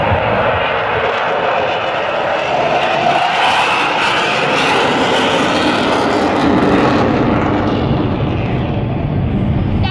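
Blue Angels jets at an air show produce a loud, continuous roar that holds steady for about ten seconds without letting up.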